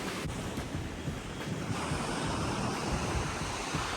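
Ocean surf rolling onto RK Beach in Visakhapatnam: a steady, dense wash of breaking waves with wind buffeting the microphone, continuous and fairly close, with no voices.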